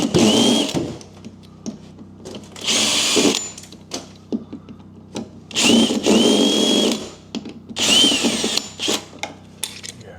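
A screwdriver drives a screw in short bursts, four separate whirring runs with quiet pauses between them. It is close and fairly loud, working on a cottage renovation.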